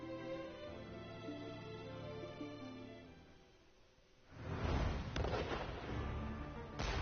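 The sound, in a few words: cannon fire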